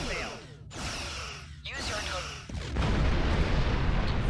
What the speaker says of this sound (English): Fire torpedo tube 1.